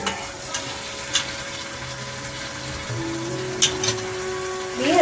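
Spice masala for a Bengali fish-roe tel jhal sautéing in oil, a steady low sizzle with occasional scraping stirs and clinks, close by; a faint hum runs underneath, with no talking.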